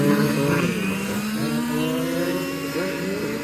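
Race cars lap a track during a 12-hour endurance race, with a continuous engine drone that rises slowly in pitch as a car accelerates past at moderate distance; no voices.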